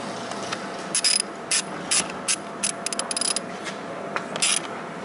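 A hand ratchet tightens a corner fitting with short, close bursts of clicking, some quick and some spaced, over a soft background hiss.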